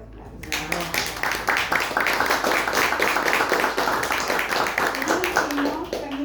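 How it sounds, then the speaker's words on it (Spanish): Audience applause at an event in Spanish fills the room as a dense, steady wash of many hands clapping, loud and continuous for several seconds, tapering slightly near the end. "Un fuerte aplauso."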